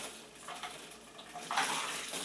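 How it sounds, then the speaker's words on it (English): Homemade liquid laundry detergent pours from a lightweight bucket into a tub, a soft splashing trickle that swells into a fuller gushing pour near the end, close by and without talk. "Just pour it in there."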